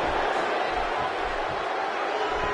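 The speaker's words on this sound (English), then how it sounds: "by the sound of this crowd, I think they're getting what they wanted" Arena crowd noise from the WWE 2K16 wrestling game, a dense, steady roar of cheering spectators filling the whole stretch without letup or clear peaks.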